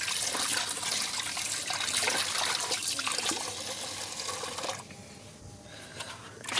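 Water from a tap runs steadily into a sink while mixed leafy greens are washed, a close splashing flow that drops to a softer trickle near the end, with no talking.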